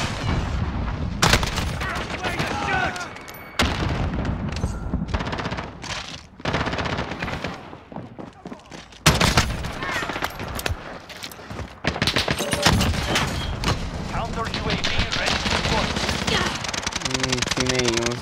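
Odin heavy rifle gunfire in Modern Warfare, loud rapid automatic bursts repeated in several stretches with brief pauses between, someone talking at times over the shooting.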